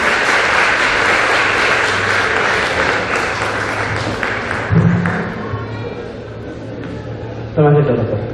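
A church congregation applauds its pastor at an anniversary service, a dense, loud wash of clapping across the room that gradually fades, with a couple of thumps near the end.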